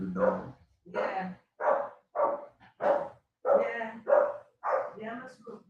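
Repeated dog barks, around nine in a row, come in a quick uneven rhythm, fairly close and clear, with no talking over them.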